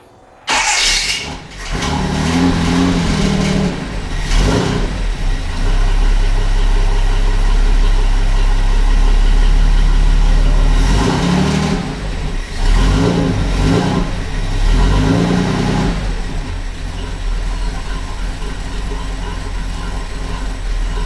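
A Datsun 620 engine cranks and catches, then settles into a loud, close idle with several rising revs partway through, with a rattling bracket audible over the running engine.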